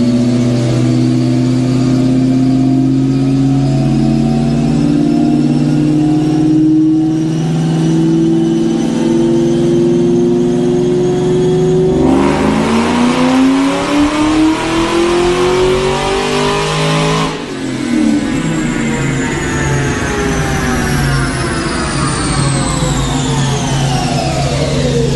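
2003 Mustang Cobra Terminator V8 revving hard on a dyno, loud sustained engine roar climbing in pitch through repeated pulls, with no talk.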